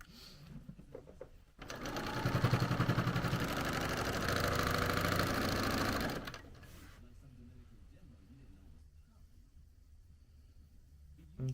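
A sewing machine runs a steady, fast stitching burst of about four and a half seconds while sewing a sweatshirt neckband, close and prominent, framed by quiet handling sounds before and after.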